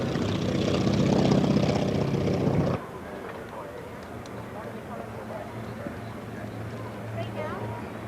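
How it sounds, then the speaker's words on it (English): A propeller-driven Navy and Marine Corps warbird flying overhead, its engine drone loud at first, then dropping to a steadier distant rumble, with someone talking over it. "this airplane is absolutely fantastic when it comes to modern day warbird flying"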